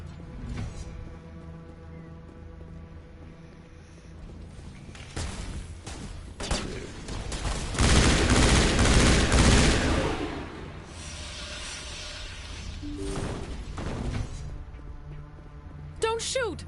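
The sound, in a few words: gunfire in the video game Mass Effect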